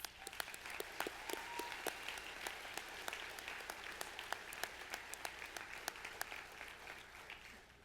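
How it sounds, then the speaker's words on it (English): Audience applause at a high school graduation banquet, a steady wash of many hands clapping with sharp individual claps standing out, sustained evenly through the whole stretch at moderate distance. "Can we please give them a round of applause?"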